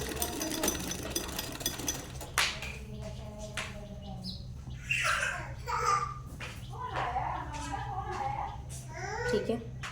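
Sewing machine stitching fabric during a beginner shalwar stitching lesson, a busy mechanical whir in short runs with clacks, mixed with background voices and chirping birds.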